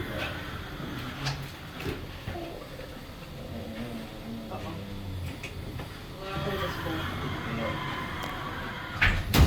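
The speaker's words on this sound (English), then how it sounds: "It's a pretty cool elevator for a mall parking garage" An Otis traction semi-scenic elevator in a mall parking garage runs with a steady low hum and rumble while its doors slide, close by, with people talking throughout and a clatter at the end.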